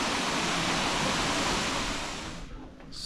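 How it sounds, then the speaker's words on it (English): A small waterfall in Chefchaouen, Morocco, gives a steady broadband rush of falling water, loud and constant before easing off slightly near the end, with no voices. "And waterfall not much bigger than this."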